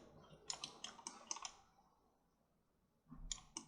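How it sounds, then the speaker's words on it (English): Computer keyboard keys are tapped in two short bursts, a quick run of about eight crisp clicks, a pause of quiet, then a few more clicks, close and faint with no talking. "But this time I'm gonna type in 0"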